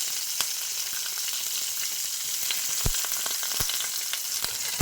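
Chopped green chilli and ginger fry in hot oil for a potato and cauliflower curry, giving a continuous loud sizzle scattered with sharp crackling pops.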